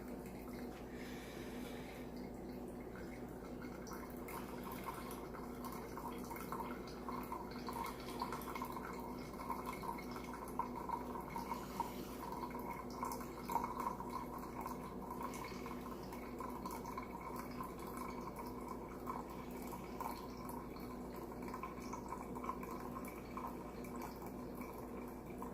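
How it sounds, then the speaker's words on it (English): Water dripping through ground coffee in a Costa Rican chorreador cloth pour-over, a steady soft trickle and patter that runs evenly throughout, quiet and close with no talking. "Alright, that's the end of the water. It's the end of the pour."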